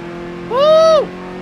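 A Ford Focus RS in Forza Motorsport 7 revs up hard on the throttle, its engine note rising in a loud sweeping whine for about half a second before dropping back to a steady drone.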